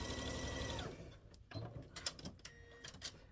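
A sewing machine stitches quilt block pieces in short bursts, fast mechanical whirring at first, then brief stops, clicks and restarts, close and clear without talk.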